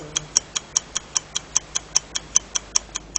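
Steady countdown timer ticking on a quiz show final, sixteen evenly spaced sharp ticks at about five per second, clear and alone with no talk.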